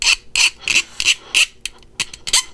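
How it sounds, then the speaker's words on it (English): Hand file scraped along the channel of a metal stained glass frame to deburr its edges, a series of close, rasping strokes in an uneven rhythm. "You take a file here and you can just make sure there's no sharp edges on it."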